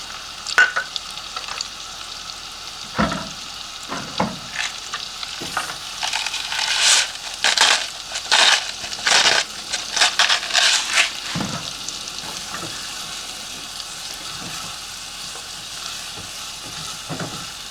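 Chopped onion fries in a pan with a sprinkle of salt, a steady sizzle joined by bursts of louder scraping and stirring in the middle, close and with no voices.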